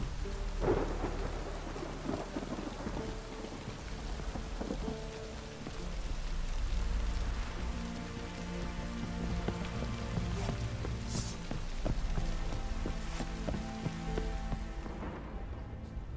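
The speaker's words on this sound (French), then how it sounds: "Un orage." Steady heavy rain pours throughout while deep rolls of thunder rumble and swell, with a sharper crack near the end, in the video game The Witcher 3: Wild Hunt.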